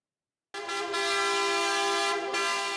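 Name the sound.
car horns honking in street celebration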